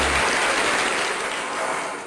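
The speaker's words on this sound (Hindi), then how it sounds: "इनके लिए तालियां बहुत सारी" Studio audience on a late-night talk show breaking into loud, dense applause that fills the whole moment, steady and close, with no voices over it.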